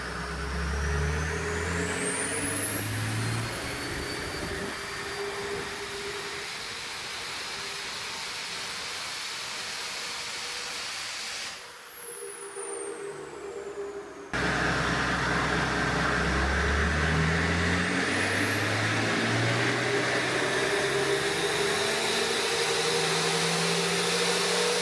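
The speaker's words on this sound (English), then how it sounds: "it was very, very loud inside the dyno room" A Toyota TD42 engine runs loud on a dyno in an enclosed room, a deep rumbling roar climbing through revs with a rising whine, briefly dropping off before revving hard again.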